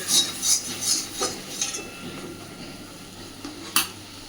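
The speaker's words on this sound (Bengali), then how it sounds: "খুব ভালোভাবে এবার পুরটাকে নেড়ে চেড়ে ভাজতে থাকবো" Stuffing for pointed gourd is stirred and fried in a pan, with a few scraping utensil strokes against the metal early on, then a quieter stretch and one last sharp scrape, faint sizzle beneath.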